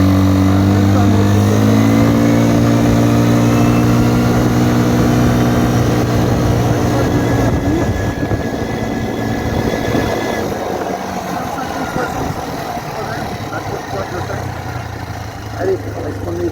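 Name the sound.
Kymco MXU 150 quad engine running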